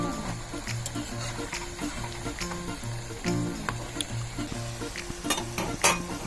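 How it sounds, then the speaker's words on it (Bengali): Fish fritters sizzling and bubbling steadily in hot oil, with a stirring, crackling texture and a few sharp clinks near the end; no voices. "বড়াটা ভাজা হয়ে এসেছে।"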